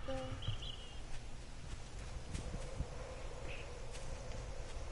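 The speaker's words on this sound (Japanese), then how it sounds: "セミの声がうるさいですね、今頃。" Cicadas droning in the survival game 7 Days to Die, a steady buzzing insect chorus that fills the whole stretch at a moderate, even level, with a few brief higher chirps near the start.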